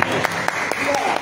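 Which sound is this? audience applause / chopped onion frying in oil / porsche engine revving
audience applause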